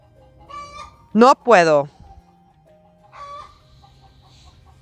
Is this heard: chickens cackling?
yes